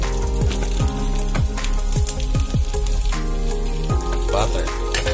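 Butter garlic chicken frying over a low flame gives a steady close sizzle and crackle with repeated pops and light scraping, continuing throughout without any talking.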